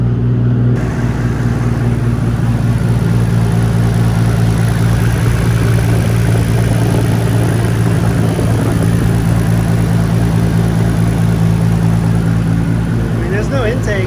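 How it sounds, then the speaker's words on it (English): A 2.8-litre Nissan Skyline R34 GT-R runs with no intake and a loud, muffler-dominated exhaust, a constant heavy droning rumble that stays steady throughout while a voice talks over it. "I'll try to talk over the sound of the exhaust."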